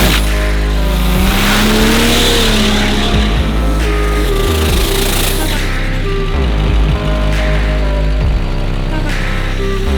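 A diesel pickup truck with a 590 engine accelerating hard at a big drag race event, a loud, continuous roar with rising engine pitch and crowd and other engine noise mixed in.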